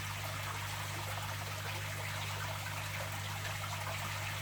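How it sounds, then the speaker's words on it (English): Water trickles steadily in a small homemade garden pond, a constant soft hiss with a low electrical hum underneath, even and unbroken throughout, with no voices. "the water will cascade around them"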